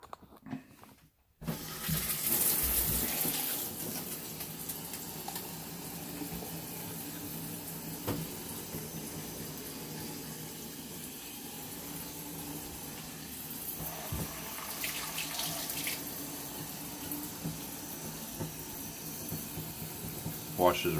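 Tap water runs steadily to rinse rust cleaner off orange-stained shower surfaces, a continuous close hiss and splash that stays even from start to finish after a brief quiet moment.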